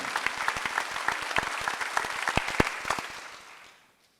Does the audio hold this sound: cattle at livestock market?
no